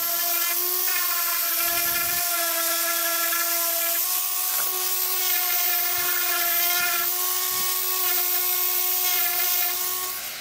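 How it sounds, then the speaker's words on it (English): A painted exhibition plinth being sanded with a power sander, a loud continuous high-pitched whine held steadily for ten seconds, close up and alone without talking. "this is a good time to actually do the second sand"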